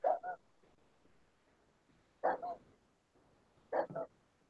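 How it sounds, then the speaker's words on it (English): A dog barks three times in short double bursts, spaced a couple of seconds apart, muffled and distant in an otherwise quiet setting. "Fucking dog is still out there barking."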